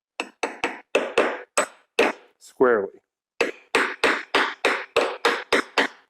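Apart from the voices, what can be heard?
hammering an idler pulley bearing into a Jeep 4.0L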